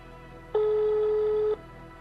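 A single steady ringback tone on a phone call sounds for about a second, clear and close, against a faint background hiss.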